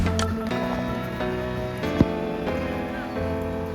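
Steady rain patters on a parked Yamaha Mio i 125 scooter outdoors on a road trip, a dense, even hiss with a single sharp tap partway through.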